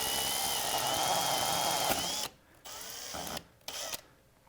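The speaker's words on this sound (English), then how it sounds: "we're just going to drill through the wood" A power drill bores through wood near a frame, a loud steady whine for about two seconds that then stops and restarts in two short bursts.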